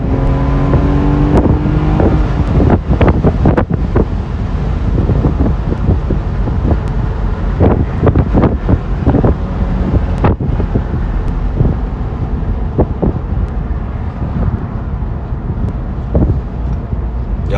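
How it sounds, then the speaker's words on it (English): A BMW 4 Series car on the move with heavy wind buffeting the microphone, a constant loud rushing roar broken by sharp thumps and flaps, with no talk heard. "This is a BMW 4 Series."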